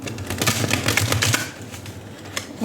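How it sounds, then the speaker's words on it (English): A tarot card deck is shuffled up close: a fast run of crisp riffling clicks and flutters for over a second, then a few quieter taps as the cards settle. "I'm going to be shuffling and pulling out 4 cards from this tarot deck."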